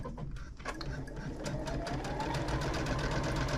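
A sewing machine runs steadily, stitching binding onto a June Tailor shopper tote bag with a 1.8 millimeter stitch length; the motor hum and rapid needle rhythm hold close and continuous throughout.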